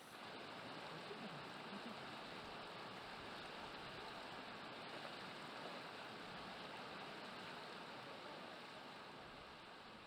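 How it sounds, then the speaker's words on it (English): A river flows steadily throughout a calm music track, a soft, even rushing wash of water that stays faint and unchanging with no voices. "It's very soothing with the sound of the river."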